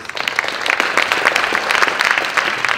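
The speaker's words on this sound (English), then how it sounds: "please give all of them a big round of applause." Sustained, loud audience applause fills a plenary session at a UN DESA symposium, with dense continuous clapping from a large crowd throughout.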